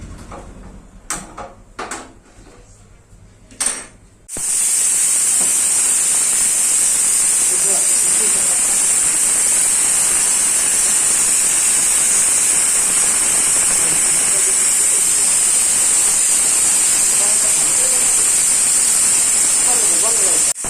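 A pressure cooker lets off steam through its whistle during home cooking of a fish curry, opening with a few knocks and then a loud, continuous hissing rush, with voices beneath.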